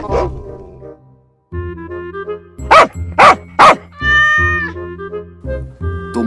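A dog barks three times in quick, loud succession up close, mixed with a cat's meows and drawn-out yowls before and after.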